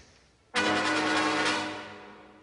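An orchestra suddenly bursts into a loud, fast, furious symphonic scherzo by Sibelius, dense strings and brass, sustained and then gradually easing in volume.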